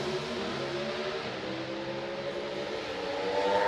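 Pro Stock drag racing cars launching down the track, a sustained roaring engine drone that builds slightly toward the end, heard from a distance with no talk.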